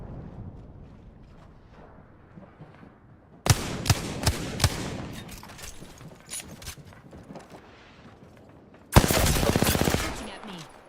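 Gunfire in the battle royale game Apex Legends: after a quiet stretch, sharp bursts of rapid shots crack out loud and close, then a second heavy burst of fire near the end, with faint game voice lines underneath.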